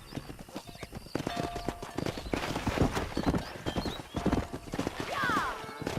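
Horse hooves clip-clopping in Red Dead Redemption during a cattle herd, rapid and steady throughout, with a whinny near the end and people talking over the hoofbeats.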